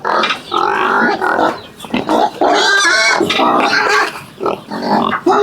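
Pigs in a pen on a farm in Laos grunt and squeal loudly and almost without pause, close to the listener, with a person's voice mixed in among the animal noise.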